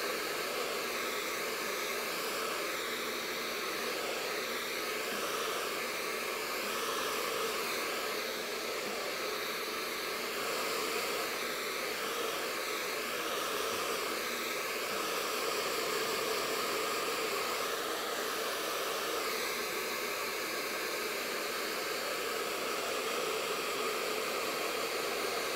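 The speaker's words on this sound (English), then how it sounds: "blow dry it like this first, just to straighten it out some" A hair dryer blows continuously on low heat while straightening curly hair, a loud, close, unbroken airy whoosh with slight shifts as it moves along the hair, with no voices.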